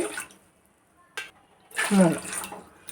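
Water pours briefly with a splashing rush into a cooking pot, close by, after quieter sounds and a short clatter.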